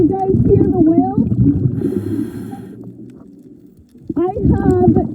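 Whales call underwater during a night scuba dive, with rising, wavering tonal moans near the start and end, mixed with low gurgling and a hissing exhale of diver's breath midway.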